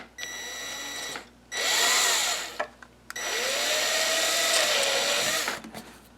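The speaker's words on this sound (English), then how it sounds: "My first row of cooling holes begin with a small pilot drill, followed by a larger spade drill." A power drill whirs loudly in two long bursts with a short pause between, its pitch sagging and rising as a small pilot bit then a larger spade bit cut cooling holes in a PVC prop gun barrel.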